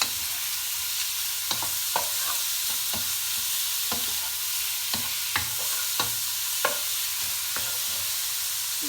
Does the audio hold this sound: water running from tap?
no